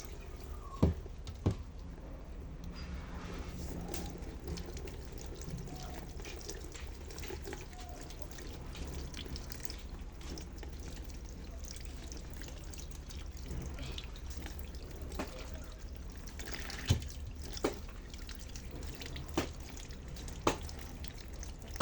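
Grilled fish is rinsed under a running kitchen tap, giving a faint, continuous wash of water over a low hum. Occasional sharp drips and small knocks punctuate it.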